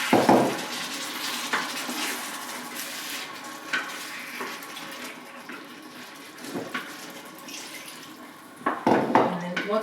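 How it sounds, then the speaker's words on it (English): Water poured into a hot pot of Algerian chicken and rice, with a loud splash and hiss at first, then a softer simmering sizzle, occasional clinks of utensils against the pot, and a final burst of stirring. "I'm just going to add a bit of water now."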